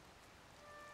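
Rain falling in the game Zelda: Tears of the Kingdom, a steady soft hiss of drops pattering on surfaces, faint and even throughout the short stretch.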